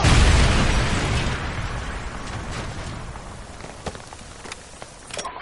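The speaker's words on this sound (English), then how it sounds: "Friendly Predator missile inbound." Predator missile strike in a first-person shooter, a loud close blast with a deep low rumble that fades slowly over several seconds, followed by scattered faint thuds and pops of debris.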